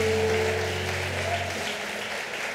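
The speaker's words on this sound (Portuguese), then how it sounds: "Você pode aplaudir a Jesus aí no seu lugar?" A church congregation applauds in a steady wash of clapping, while a sustained keyboard tone fades out partway through.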